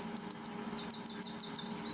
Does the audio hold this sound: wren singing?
yes